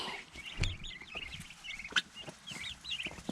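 Young turkeys, little fluffy poults on a homestead, give a chorus of high, chirping peeps and soft clucks, repeating in short bursts with a few faint knocks and rustles underneath.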